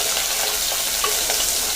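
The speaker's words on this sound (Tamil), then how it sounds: "இப்போ நம்ம பச்சை மிளகாய், பூண்டு, வெங்காயம் இதை வந்து நல்லா வதக்கி விட்டுக்கோங்க" Green chili, garlic and onion sautéing in hot oil, a dense, close, steady sizzle with faint stirring movements underneath, continuous throughout and free of speech.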